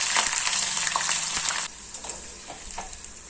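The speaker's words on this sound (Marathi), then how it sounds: "त्याच्यामध्ये आता आपण फरसबी टाकून एकसारखं हलवून आपण ते देखील फ्राय करून घेणार आहोत" Green beans frying in hot oil while being stirred for a veg pulao, a bright loud hiss that drops abruptly halfway into a softer sizzle with scattered light stirring clicks, close by.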